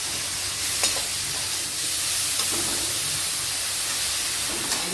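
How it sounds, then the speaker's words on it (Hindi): Grated radish roasting in a hot pan gives a steady close sizzle and hiss with faint stirring scrapes throughout, no voices. "ये इसको भी हल्का सा मूली को भून लेते हैं।"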